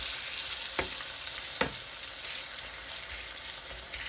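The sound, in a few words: chicken sizzling and being mixed in pan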